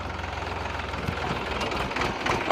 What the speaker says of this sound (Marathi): ए उभा कर ट्रॅक्टर